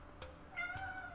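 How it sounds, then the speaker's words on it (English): A domestic cat in a Sims 4 game gives two short meows, soft and close, the second rising and slightly drawn out, with no talking. "And that was my cat Rodney just saying hello"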